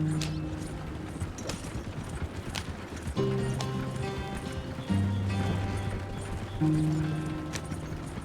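Horse hooves clip-clop at a steady gallop in Red Dead Redemption 2, close and rhythmic, layered under swelling sustained musical tones.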